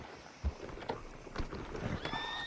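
Horse hooves clip-clopping in Red Dead Redemption, the game's horse footsteps sounding as a few irregular thuds over a steady background, with a higher whinny-like tone near the end and no talk.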